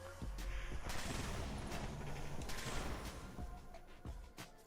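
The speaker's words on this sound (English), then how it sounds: "The hex barrel gives the pepper shaker 8 shots." Pepper shaker gun fitted with a hex barrel firing rapidly in Fallout 76, a dense, continuous burst of loud overlapping shots with a few distinct sharper cracks standing out.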